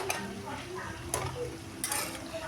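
Masala is stirred in a pan with steady scraping and clinking of a utensil against the metal, a soft sizzle underneath, and a few louder scrapes near the middle and end.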